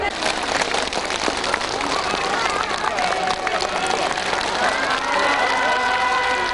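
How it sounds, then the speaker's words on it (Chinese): A crowd of Zhuang villagers gathered in their village breaks into warm, continuous applause with cheers and excited voices mixed in, loud and steady throughout. "引来一阵阵热烈掌声"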